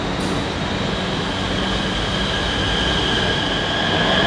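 India's new RRTS train pulling out of a station, a steady close roar of wheels and motors with a thin high whine running throughout, no talking.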